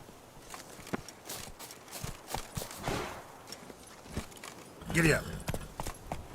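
In The Witcher 3, a horse's hooves clip-clop in an irregular walking rhythm, crisp and fairly close, with a louder burst partway through and voices talking over it.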